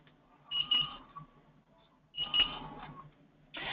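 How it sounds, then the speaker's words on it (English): A link loss alarm from a Loner Bridge safety monitoring system sounds as repeated bright electronic beeps, short bursts spaced over a second apart, fairly faint and clean with little else around them. "if you do have the link loss alarm enabled, so I want to know a sound when I lose connection from my bridge"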